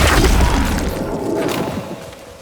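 The Flipendo spell in the wizarding game Hogwarts Legacy goes off as a loud whooshing boom at the start, then a rumbling tail that fades over a couple of seconds.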